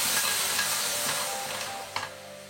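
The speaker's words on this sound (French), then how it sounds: "On va mettre une petite louche d'eau de cuisson des pâtes." A small ladle of pasta cooking water hits butter browning in a frying pan, giving a loud, continuous close sizzle and hiss that eases slightly toward the end, with a brief clink near the close.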